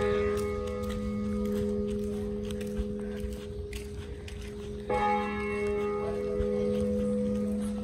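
A church bell tolls at noon in a quiet town with the shops closed, steady sustained ringing tones lingering in the air, fairly distant, with a fresh strike near the middle and faint footsteps around.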